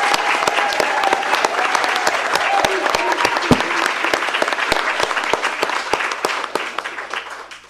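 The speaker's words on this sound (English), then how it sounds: "I want a round of applause for Kim for the idea." Sustained audience applause fills a conference hall during the closing plenary of a braille summit, with dense clapping steady throughout before fading at the end.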